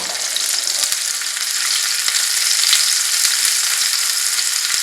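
Onions with chillies fry steadily in hot oil for a bitter gourd and egg fry, a loud, continuous close sizzle with faint occasional clicks of stirring.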